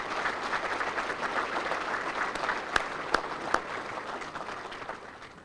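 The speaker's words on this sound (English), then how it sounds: "Ladies and gentlemen, a round of applause for everybody involved." An audience at a 2006 NEAR Hall of Fame ceremony gives sustained applause in a large room, a thick, even roar of clapping with a few sharper individual claps standing out near the middle.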